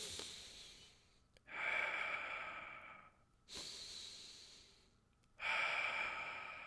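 Slow, deep breaths during meditation: three long, airy breaths drawn in and let out at an unhurried pace, close and soft, with quiet pauses between them and no talking.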